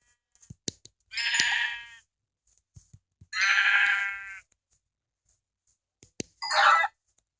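Sheep in a video game bleating three times, each a loud, drawn-out call about a second long separated by quiet gaps with scattered small clicks.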